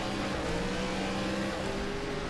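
An ARCA stock car in iRacing launches at the green flag at North Wilkesboro, its engine a loud, steady, throaty roar that holds for the whole span, with no voices over it.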